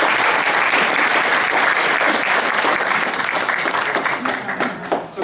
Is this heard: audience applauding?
yes